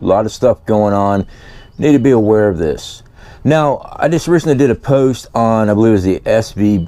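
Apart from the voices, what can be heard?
None of the usual background noises is heard.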